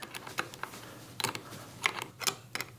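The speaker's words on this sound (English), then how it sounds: "Nylock nuts. Oh, an 11 millimeter metric spanner. Fits it perfectly." Imperial nylock nuts being turned with an 11 mm metric spanner, giving a scatter of small, close metallic clicks and ticks in uneven bursts, with no talking.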